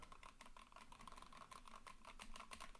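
Typing on a mechanical keyboard fitted with sci-fi-themed keycaps, a steady stream of close, crisp, poppy key clacks over the whole stretch, with no talking.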